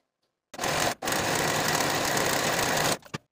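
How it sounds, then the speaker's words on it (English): A serger sewing machine runs at speed, finishing the edge of a blouse facing with a steady, loud, close whirring rattle, broken by one brief stop and ending with a short final burst. "I'm going to take this to my serger and serge from the center back all the way around to the opposite center back"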